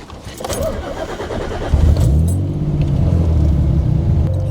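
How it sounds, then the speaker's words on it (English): A tuned 900 hp Nissan 300ZX with anti-lag and boost control rumbles close by as it pulls away onto the road, starting with some rattling clatter before a steady low engine drone takes over. "let's go ahead and get this thing on the road"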